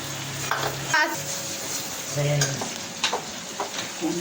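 Spiced food frying in a pan while being stirred, a loud close sizzle with repeated spatula scrapes and light clinks, occasional brief tonal bursts, no clear speech.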